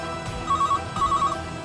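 A landline telephone rings indoors in two short bursts of electronic trills, each a quick run of repeated tones, loud and close with no talking.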